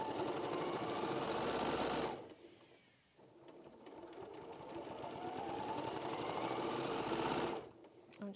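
A domestic sewing machine runs in two long bursts while stitching binding onto a pillow at a short 1.8 stitch length, a steady motor whirr that strains and pauses briefly in the middle before resuming, close and loud.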